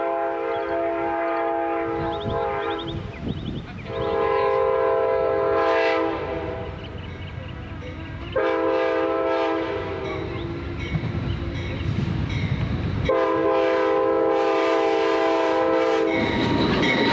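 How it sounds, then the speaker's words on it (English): Amtrak passenger train P968 arriving at Sebring, Florida sounds a loud multi-tone horn in three long blasts, with the rumble and clatter of the moving train underneath. "Right at 12 noon, Amtrak train P968 with engineer Kyle made its triumphant arrival into Sebring, Florida."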